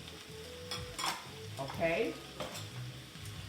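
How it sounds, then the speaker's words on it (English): Cabbage and green peppers sizzle steadily in a hot pan while being stirred, with scraping stirs and crackling frying close up. A brief word is spoken. "Here, let them hear the sizzle."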